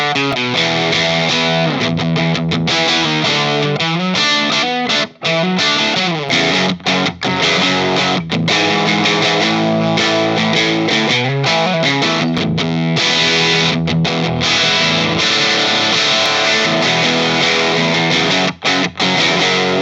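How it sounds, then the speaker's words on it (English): Heavily distorted electric guitar played through a Gibson GA-15RVT amplifier, loud and continuous, with dense crunchy chords and brief pauses between phrases. "Now we're going to compare the distortion from both amps."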